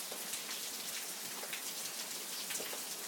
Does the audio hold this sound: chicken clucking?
no